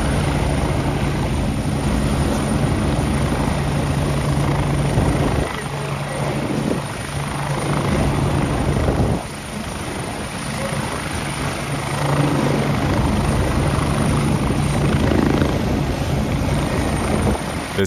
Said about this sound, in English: This helicopter landing with precision.